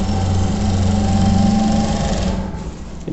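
A sewing machine running steadily while stitching the seat seam of a pair of pants, a loud, even motor whir up close that eases slightly near the end, with no voices.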